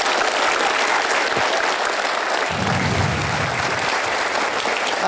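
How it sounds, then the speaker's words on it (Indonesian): A studio audience at an Indonesian talk show claps in steady, dense applause that carries through the whole stretch, with a low crowd murmur swelling partway through. "Kita berikan aplaus sekali lagi untuk Yesa"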